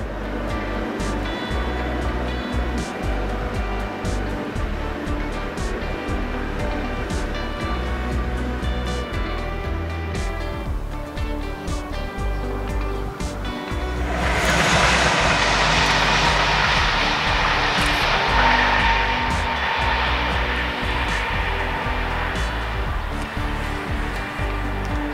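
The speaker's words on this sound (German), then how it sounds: "Hinter dem Güterzug überholt jetzt ein Talent der Baureihe" A Talent electric multiple unit of class 442 passes a freight train, a steady loud rolling rumble with a broad rushing swell midway as the overtaking train draws closest, then a gradual fade.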